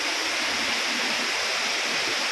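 Steady broadband rush of water pouring at Tinandayagan Falls in Libmanan, Camarines Sur, a dense continuous roar heard close up with no voices.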